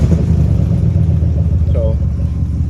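A Ford Sport Trac with an exhaust leak idles and runs steadily up close, a loud continuous low engine and exhaust drone with some rough puffing throughout.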